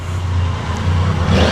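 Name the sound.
Triumph Triple motorcycle engine revving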